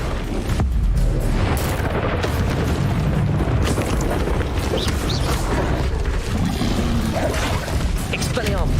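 Bombarda blasting spell explosions in Hogwarts Legacy boom heavily within a constant wash of noisy spell-combat effects, with talking throughout.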